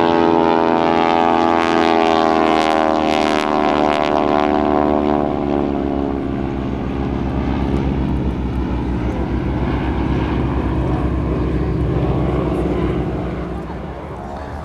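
Two North American T-6 Texan aircraft making a photo pass at an airshow, their loud propeller engine drone rising to a peak and slowly fading as they pass, with continuous commentary over the sound.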